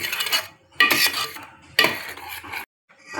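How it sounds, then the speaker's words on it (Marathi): Soya butter masala being stirred and mixed in a pan, with bursts of utensil scraping and clinking against the pan in separate strokes, fairly close and alone with no talking. "आनी मागीर तें बरें करून मिक्स करपाचें"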